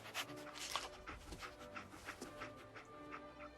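Dogmeat, the dog companion in Fallout 4, pants in quick, soft, breathy bursts close by, with faint whimpers mixed into the rhythm.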